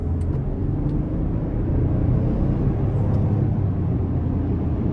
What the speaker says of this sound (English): the twin turbo V6 in this thing is absolutely crazy